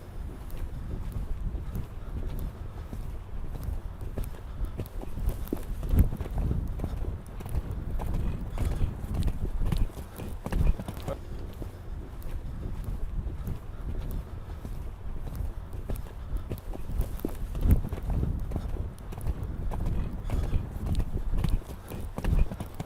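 Horse hooves during jumping training, a steady rhythmic clip-clop of strides on the ground with wind noise over the microphone and occasional faint voices in the background.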